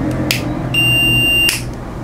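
A digital multimeter on a car switch test gives a steady electronic beep lasting under a second, close and loud, with brief clicks of the switch before and after.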